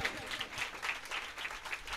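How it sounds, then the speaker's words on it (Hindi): Church congregation applauding at a pastors' appreciation day service: steady, fairly quiet clapping throughout, with a voice speaking over it. "तालियां कमी नहीं होनी चाहिए।"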